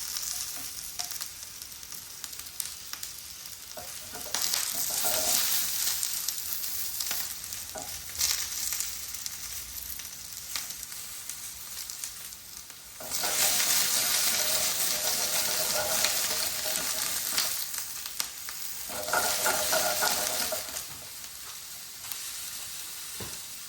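Chicken jalfrezi pieces sizzle and char-grill in a hot pan, a steady loud frying hiss that swells in bursts, left unstirred and heard alone without voices.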